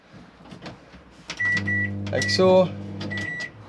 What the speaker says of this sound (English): You've got your 240 only microwave, so when hooked up this will operate